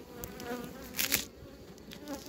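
Honey bees buzzing steadily from an opened hive as frames are lifted during beekeeping, a dense close droning hum with a few louder passes near the microphone.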